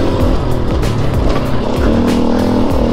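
A new gasoline dirt bike engine revs hard during a first motocross ride, a loud continuous rasp rising and falling in pitch for about three seconds, close up, with no talking.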